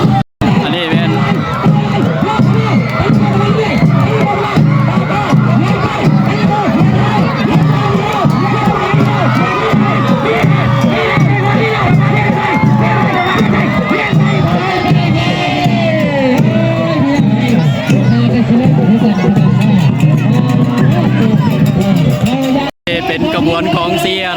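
A dense crowd cheers and shouts at a village boat race festival in Laos, a continuous, loud roar of voices with whoops and calls layered over it for the whole stretch.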